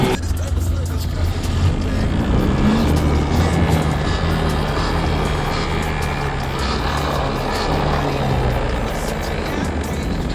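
A fully electric 72V ATV quad rides along with a continuous whirring drive and rushing wind noise, loud and close throughout, with no clear speech.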